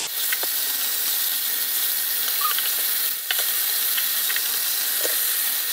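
Mutton pieces frying with garlic in hot oil give a steady, close sizzle and hiss that runs the whole time, with a few sharper crackles and pops over it and one brief dip in the middle.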